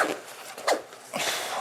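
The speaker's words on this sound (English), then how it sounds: "Zip this up." A zipper on a Kifaru Ark hunting pack is pulled up in a few quick, close rasping strokes, with short pauses between them.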